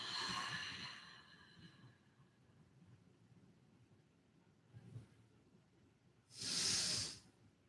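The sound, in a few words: slow exhale during yoga breathing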